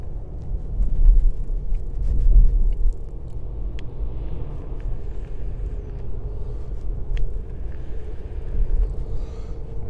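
Car interior on the road, a steady low rumble with broadband road noise throughout, fairly loud and even, no talking.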